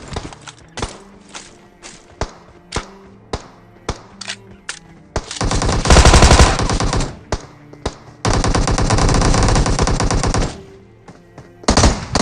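Gunfire in the mobile game Battlegrounds Mobile India: scattered single shots at first, then two long loud sustained machine-gun bursts, followed by a few more sharp shots near the end.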